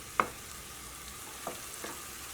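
Okra simmering in tamarind water in a pan on a medium flame gives a soft, continuous bubbling sizzle, with a few quiet clicks of stirring spaced through it and no voices.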